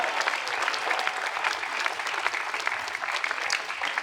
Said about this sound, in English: Let's give Michelle another round of applause.